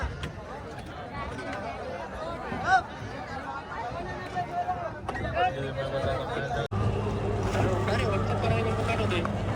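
A boat pulls away on the river at Triveni Sangam in Prayagraj, a steady low engine drone building and holding beneath crowd chatter and nearby voices, continuous and close.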